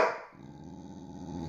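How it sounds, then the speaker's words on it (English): A dog growls and barks close by in a short burst, then keeps up a low, steady rumbling growl, with no talking. "That's my dog."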